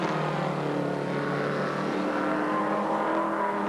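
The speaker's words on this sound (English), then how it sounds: "There's the 25 car coming up along the pit straight" A 1980 touring car in the Hardie-Ferodo 1000 at Bathurst runs along the pit straight, its engine note a steady, continuous roar that holds throughout without pause.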